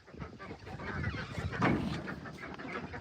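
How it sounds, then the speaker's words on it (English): Chickens being rounded up into a new coop, squawking and clucking in a jumble of faint calls, scuffling throughout with no clear talk. "We're just rounding up the chickens, putting them in their new house."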